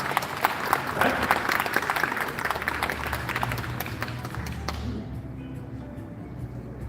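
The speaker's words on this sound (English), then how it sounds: "May I please ask you to give them the loudest applause you could make?" Audience at a green economy summit panel applauding, dense sustained clapping from a crowd that stays steady and then thins and fades toward the end.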